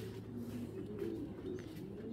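A racing pigeon coos low and faint in a short murmuring call beneath a steady background hum, with no voices.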